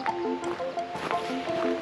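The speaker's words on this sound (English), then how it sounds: "Right away I can hear the creek." Black Creek flows at a preserve trailhead, a close gurgling, splashing trickle with small drips and squishy liquid bubbling, continuous and moderately loud.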